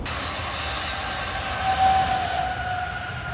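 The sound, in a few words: Acela train passing on rail line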